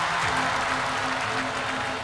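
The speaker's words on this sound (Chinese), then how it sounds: "我们再一次给他们一个掌声鼓励" An audience at a 2015 Top Idol national singing final applauds the contestants, producing a dense, steady wash of clapping that stays loud and even throughout.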